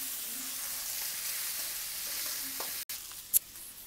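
Cubed tomatoes fry in a pan with a steady, soft hiss of sizzling, broken near the end by a brief scrape of stirring and a sharp clink close by.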